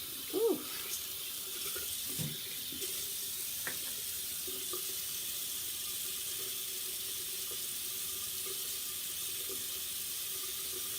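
Tap water runs steadily into a sink while makeup brushes are washed, a faint continuous stream with a few soft knocks and splashes near the start.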